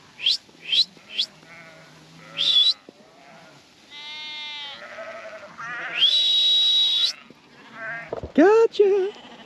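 Sheep bleat repeatedly as they are gathered into a pen on a farm, with several loud, wavering calls spaced across the clip, some long and sustained, while a person talks nearby.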